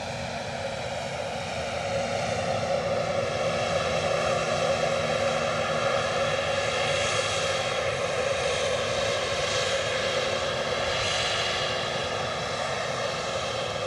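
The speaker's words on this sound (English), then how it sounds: "We also have JetBlue tucked in behind that on its way back to JFK." A JetBlue airliner bound for JFK taxis at Edinburgh Airport, its steady jet-engine whine and broadband roar loud and continuous throughout with no talking.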